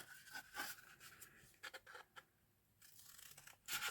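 Scissors snip through a flattened cardboard toilet paper roll in quiet, crisp close cuts that come in short clusters separated by pauses.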